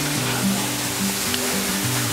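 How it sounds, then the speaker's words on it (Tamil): Water pours from a pipe to form an artificial waterfall on a trip to Wadi Shab, a steady, close rushing splash with a low tonal hum running underneath. "மேலே இருந்து ஒரு வாட்டர் ஃபால்ஸ் எஃபெக்ட் கொடுத்துருக்குறாங்க."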